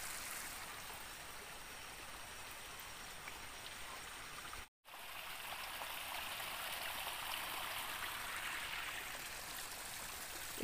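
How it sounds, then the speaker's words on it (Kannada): A river in flood, Gauri Hole, rushes past with a steady, loud broadband roar of water that holds constant apart from one brief dropout partway through. "ತುಂಬಿ ಹರಿಯುವ ನದಿ."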